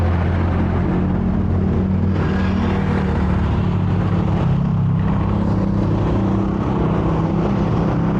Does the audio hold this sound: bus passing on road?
yes